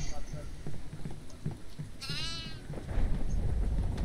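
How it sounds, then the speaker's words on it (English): A goat in the horror video game Devour lets out a single wavering bleat partway through, rising over a noisy game background, with a person talking before and after it. "There's another goat here as well."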